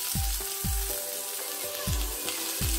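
Tomatoes sautéing in a wok with golden-fried onions and a teaspoon of oil, a steady broadband sizzle broken by five evenly spaced low thuds of a spatula against the pan, close and moderately loud with no talking.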